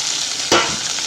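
Tomato frying in a pan, a steady close sizzle with one brief stirring scrape midway, no talking.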